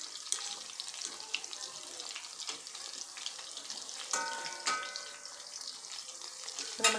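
Chicken 65 pieces frying in oil on a medium flame in an Indian kitchen, giving a steady close-up sizzle and crackle with occasional stirring clatters throughout.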